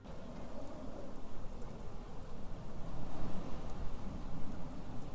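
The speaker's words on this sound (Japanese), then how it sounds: "でもなんか嫌な予感しかしないような感じの嵐の音を聞かせるね、君" Storm ambience in a video game: a steady, dense wash of rain with low rumbling undertones, continuous and fairly loud throughout, with no voices.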